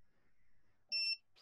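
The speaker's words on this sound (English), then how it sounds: "So that's just the first sequence of beeps" The lost-battery beeper on an FPV drone gives one short, sharp electronic beep, close and fairly loud after near silence, with the start of a second beep at the very end.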